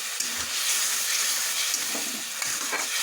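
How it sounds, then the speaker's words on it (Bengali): Spice paste with water, salt, turmeric and a little sugar being stirred and fried in a pan for a vegetarian young jackfruit curry; close, continuous sizzle with intermittent spatula scrapes, no talking. "এবার আমি ভালো করে মশলাটা কষিয়ে নেব।"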